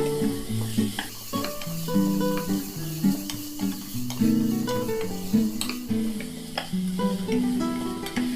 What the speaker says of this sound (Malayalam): ആവശ്യത്തിനുള്ള ഉപ്പും അല്പം മഞ്ഞൾപ്പൊടിയും ചേർത്ത് നന്നായിട്ട് ഒന്ന് വഴറ്റിയെടുക്കുക